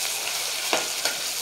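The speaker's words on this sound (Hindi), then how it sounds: "तेल में अच्छी तरह फ्राई होने के बाद" Onion and ginger garlic paste fry in hot oil for kofta salan, giving a loud, steady sizzle close up with two brief stirring scrapes.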